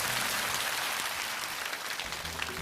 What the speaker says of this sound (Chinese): 掌声送给她